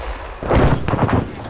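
Gunfire in ArmA 3 during a Humvee ambush in a military simulation: a quiet lead-in, then a loud burst of close shots and rumbling reports that continue for about a second.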